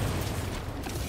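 Weapon rearming in Space Marine 2 makes a brief mechanical creak and ratcheting clatter, dense and close, with no speech.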